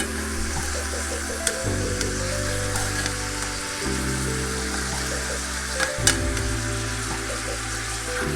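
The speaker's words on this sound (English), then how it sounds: "So now we've got a little bit of a sear going on one side." Two sausages sear in a hot pan with a steady, close sizzle that runs throughout, broken by a few sharp clicks and shifts as they are moved or turned; no one speaks.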